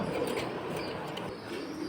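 Pigeons at a busy pigeon market give off a steady, dense murmur of cooing and rustling throughout, with occasional wing flaps and chirps, heard at moderate loudness without clear talk.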